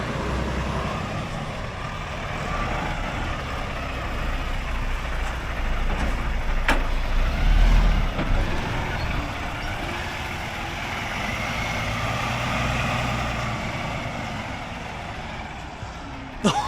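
A long lorry idles and edges through a gateway, its low engine rumble steady and fairly close for the whole stretch, rising slightly midway as it manoeuvres, with faint background noise and no clear talk.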